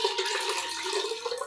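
Soft splashing and sloshing of water as homemade butter is washed by hand in a bowl in a village kitchen, steady and close without speech.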